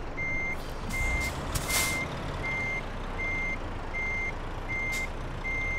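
Truck in Euro Truck Simulator 2 backing up while parking: a steady reverse alarm beeps evenly about eight times over a constant diesel engine hum, with a brief air-brake hiss partway through.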